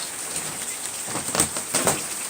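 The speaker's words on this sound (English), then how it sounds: "it's about to rain even harder" Heavy rain pours down in a steady, dense hiss, with a few louder splashing bursts standing out near the end.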